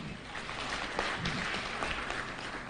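An expo audience in Mbarara claps for the chief guest, the Deputy Speaker of Parliament of Uganda, a dense, even burst of many hands applauding, moderately loud and sustained without talk.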